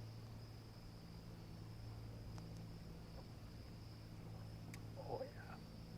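Crickets chirp faintly beside a lake at sunset, a thin steady trill held over a low constant background hum, with no voices.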